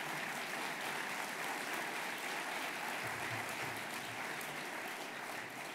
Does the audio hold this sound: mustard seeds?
no